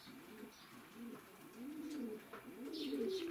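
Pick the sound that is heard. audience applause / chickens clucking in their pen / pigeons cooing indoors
pigeons cooing indoors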